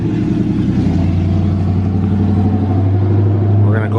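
A Ford F-150 pickup truck engine rumbles steadily at close range with a low, constant idle drone as the truck is driven out, lasting throughout.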